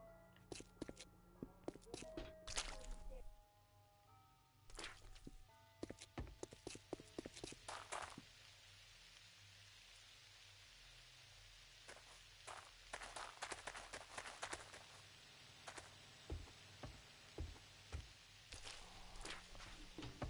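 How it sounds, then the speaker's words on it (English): Footsteps in the survival game 7 Days to Die on PS5, a long run of crisp irregular steps, at times in quick clusters, moving close and clear over a low steady background. "Thought I just heard footsteps"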